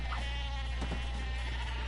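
Goats in the Ratchet & Clank video game give a single short bleat over a steady low hum of game background sound.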